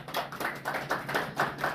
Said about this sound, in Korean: 박수 쳐드리세요.